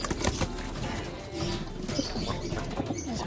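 Pigeons are released and take off with a burst of loud, close wing flapping, rapid clattering beats running continuously with faint coos around them.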